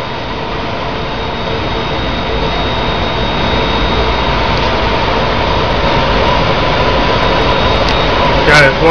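An Active Power UPS 300 flywheel unit at a TV station spinning up, a loud, steady engine-like roar and whine that slowly builds, with a voice heard faintly.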